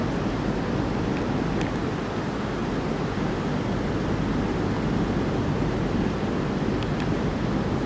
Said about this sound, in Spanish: Por eso el agua corre de su izquierda hacia su derecha.